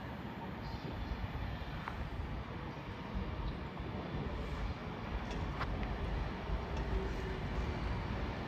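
An Avanti West Coast passenger train arrives at Nuneaton station on the West Coast Main Line, a steady broad rumble with faint high squeals, continuous and fairly loud without speech.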